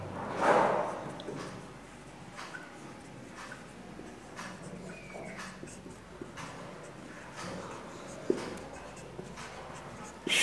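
A teacher writing out word meanings, pen or chalk scratching in short intermittent strokes, faint and close, in a quiet room with occasional soft knocks and no talk.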